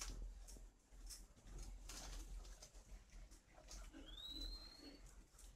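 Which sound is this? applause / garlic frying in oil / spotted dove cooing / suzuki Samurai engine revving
spotted dove cooing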